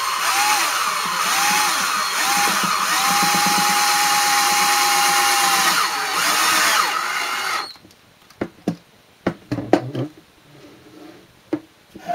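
A power drill drives a long screw into a wooden door casing with a loud, close, steady whirring that holds for about eight seconds, then stops, followed by scattered knocks and handling clicks.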